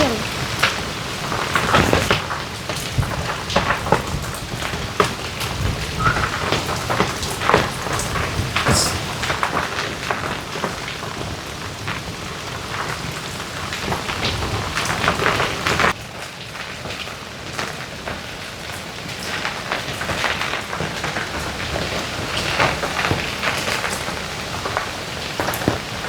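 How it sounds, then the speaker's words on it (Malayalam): Heavy rain pours down steadily on a surface, with dense continuous patter and occasional louder bursts, and rumbles of thunder rolling in beneath the downpour on a rainy day. "ഓ, ഇതെന്തൊരു മഴയാണ്"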